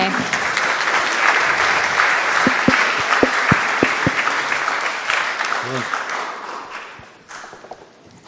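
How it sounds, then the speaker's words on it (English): An audience applauds after a film matte painting and art direction presentation, a sustained crowd clapping with a few sharp, distinct claps standing out near the middle, fading gradually toward the end. "let's have a round of applause for the presentation"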